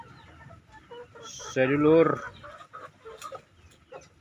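Free-range village chickens cluck in a short burst, one loud squawking call rising in the middle amid softer scattered clucks, with someone speaking briefly nearby.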